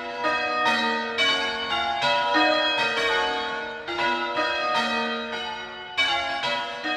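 Large church bells in Burnham, Buckinghamshire ring in a steady, overlapping peal, each strike clear and resonant with long ringing tails, no voices present.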